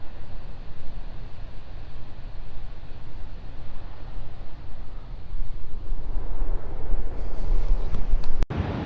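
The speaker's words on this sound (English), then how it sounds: "Look at the waves out there coming in" Ocean waves rolling in on a rugged coastal trail, a broad continuous roar of surf mixed with heavy wind buffeting the microphone, swelling louder toward the end with no talking.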